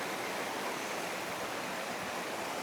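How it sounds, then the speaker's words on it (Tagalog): Water rushes steadily from an opened campsite pool drain, a continuous broadband gushing flow at close range with no talk over it. "binubuksan nila yan para umagos yung tubig doon"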